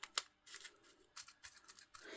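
Scissors snip several times in short, crisp cuts at close range while a small craft model is being trimmed, with quiet handling noises between the snips and no talking.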